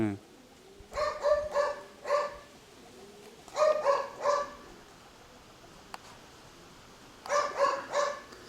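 Pigeons coo in short repeated bursts of three or four notes, pausing between groups, fairly close with a quiet outdoor background.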